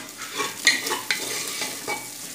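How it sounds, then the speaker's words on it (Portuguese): Linguiça sausage fries in a pan with a soft, steady sizzle, broken by a few sharp clicks and scrapes from stirring; quiet and close, with no voices. "Aí deixa ela fritar um pouquinho. Deixando ela fritar."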